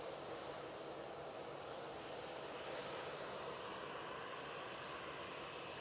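A Qatar Airways aircraft pushes back at Manchester Airport, giving a steady, fairly faint jet engine hum heard from a distance with no change throughout and no voices.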